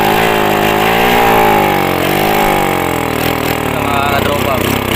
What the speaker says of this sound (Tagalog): Paandarin natin to si 150A ng walang carb.